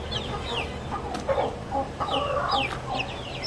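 Rhode Island Red chickens cluck and chirp in a farmyard, with several short, overlapping calls close by over a steady background murmur and no talking.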